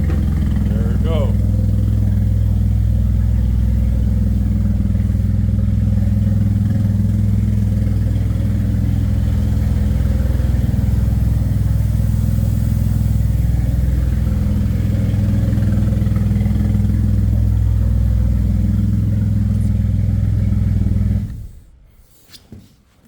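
A rebuilt car engine runs steadily with a loud, deep, droning rumble close by for about twenty seconds before cutting off abruptly, with people talking over it.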